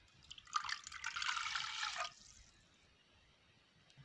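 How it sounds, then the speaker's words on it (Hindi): A glass of water poured into a cooking pan, a steady splashing rush lasting about a second and a half before stopping, close and clear in a quiet kitchen. "पैन में हम डालेंगे 1 गिलास पानी का।"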